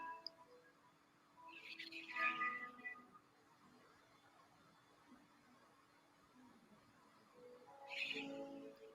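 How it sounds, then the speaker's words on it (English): Faint bird calls outdoors, two short chirping bursts several seconds apart against a quiet, hushed background. "Hear the birds chirping outside."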